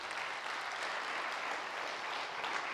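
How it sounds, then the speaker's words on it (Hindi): An audience at a spiritual centre in Mount Abu gives a speaker a round of hearty clapping, a continuous, even wash of many hands that sounds somewhat distant and soft. "ताली भाई जी के लिए एक बार जोरदार ताली बजाएंगे"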